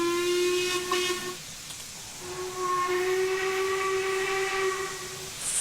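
Steam locomotive whistle in the Train Simulator 2016 game, an austerity engine on the Maerdy line, sounding two loud sustained blasts with a brief gap between, hissing steam beneath, no talking.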